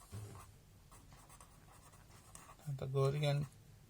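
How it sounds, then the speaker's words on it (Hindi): Quick, soft scratching strokes from writing out working in a maths lecture on chords of a circle and right triangles. A voice speaks briefly near the end. "तो हम यहाँ लिखेंगे"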